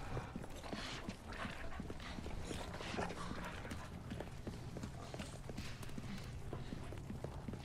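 Dogs running in the Resident Evil 4 video game, with rapid padding footfalls repeating over a dense, loud game soundscape.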